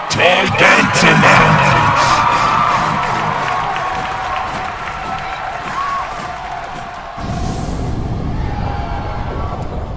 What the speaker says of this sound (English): you hear the crowd roaring